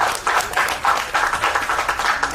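An audience applauding at a Tamil movie pre-release event for the film Thookudurai: a brief burst of clapping in uneven pulses, fairly close and steady, with no voices over it.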